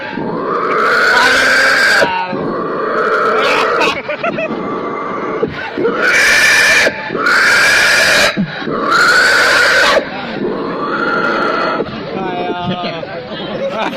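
A voice imitates a pig squealing and crying as it is slaughtered, with loud drawn-out shrieking wails in bursts, broken by grunting and chattery vocal sounds between them.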